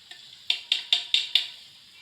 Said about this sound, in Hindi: अब मैं इसके अंदर डालूंगी अपनी पोटली जो मैंने बनाई थी। इसे थोड़ा सा घी के अंदर मिक्स करूंगी।